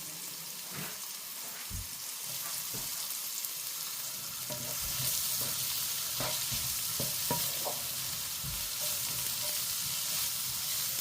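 Onions sauté in a pan for butter chicken, sizzling and frying steadily while a utensil stirs and scrapes at irregular intervals, close and continuous with no talking.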